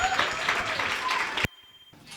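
An audience claps together after a Women's Day speech, a dense burst of applause lasting about a second and a half before cutting off abruptly to quieter room sound.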